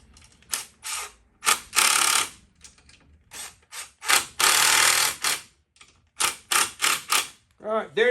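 A ratcheting hand tool tightens bolts and nuts with washers while mounting a tail light on a Honda XL70 K0 motorcycle, in a series of short, close clicking bursts separated by pauses, with someone talking.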